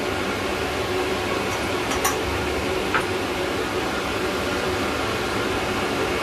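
A steady, loud airy whoosh of a blow dryer running continuously on a dog's coat, with a couple of faint clicks in the first few seconds.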